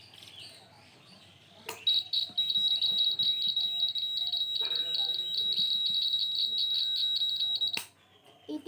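A homemade earthquake alarm built from a 9-volt battery, on-off switch, buzzer, copper wire and safety pin gives a steady, high-pitched electronic buzz lasting several seconds, starting and stopping with sharp clicks over faint background noise.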